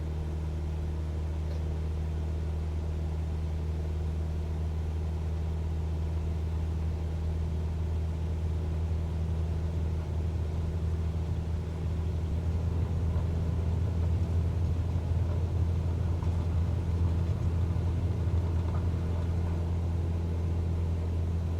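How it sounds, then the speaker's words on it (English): Cessna 172 Skyhawk engine at takeoff power in Microsoft Flight Simulator, a steady, loud, droning hum with a strong low tone that holds evenly throughout and grows slightly fuller partway through, with no talking. "Let's get power up. Let's release the parking brake and take off."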